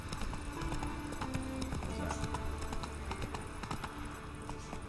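Roach's hooves clip-clop in a quick steady rhythm in The Witcher 3: Wild Hunt as the horse moves at pace, with game ambience beneath.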